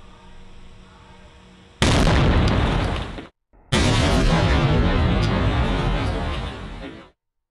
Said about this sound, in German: das waren definitiv 2 China-Knaller!